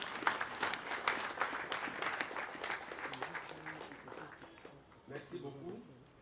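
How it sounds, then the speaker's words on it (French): Applause from an audience honouring a deceased artist fades gradually, with voices talking over and after the clapping. "On peut applaudir."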